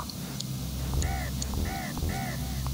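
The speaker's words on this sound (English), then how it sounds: "What are these birds doing here?" Birds cawing in a snowy Donkey Kong Country level, three clear repeated caws over a steady game music and ambience bed.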